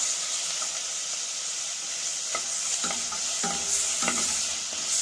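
Carrots, beans, potatoes and tomato sauté in a pan while being stirred, giving a steady close sizzle with repeated scraping stir strokes and no talk.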